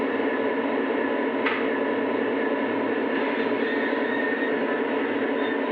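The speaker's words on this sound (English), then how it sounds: "let's go ahead and give it a little bit of throttle and let's see what happens." Lionel model train locomotives running together in a lashup give a steady electric motor whine with a constant rolling hum, close and even throughout, with one brief squeak partway through.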